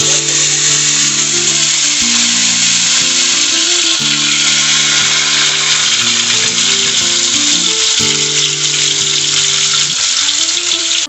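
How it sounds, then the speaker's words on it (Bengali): Fish sizzles loudly in hot mustard oil in a kadai, a constant bright hiss running the whole time, with a steady motor-like drone layered beneath it. "তেল গরম হয়ে গেছে এরপর মাছ"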